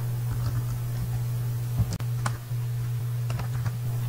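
A search being typed on a computer keyboard into Google: a quick run of close, crisp key taps over a steady electrical hum, with one sharper click partway through.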